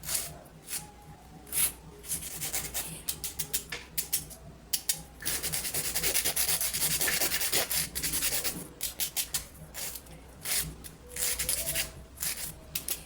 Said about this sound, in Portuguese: Então, você vai lixando tudo pretinho.